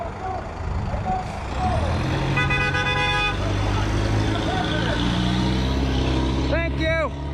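A UPS delivery truck rolls past with a loud engine rumble and a brief tonal horn or brake squeal, while people shout and talk over the traffic noise.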